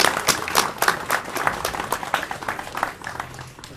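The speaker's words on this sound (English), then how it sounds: "I think another huge round of applause for them." Wedding guests applaud with a quick run of distinct claps that fade a little toward the end, a small crowd clapping together indoors.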